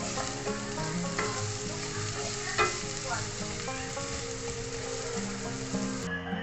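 Onion and ginger sizzle steadily in hot oil in a pan while being stirred for chicken with malunggay, a continuous loud frying hiss with occasional scraping of the utensil.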